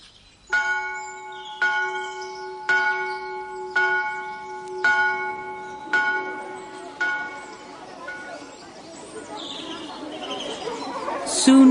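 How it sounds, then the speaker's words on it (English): A mill bell tolls at six o'clock at a grey February dawn, eight loud, evenly spaced ringing strokes with long resonant hum, fading into faint chatter and bird chirps, then a sudden noisy rustle. "Go and ring the mill bell."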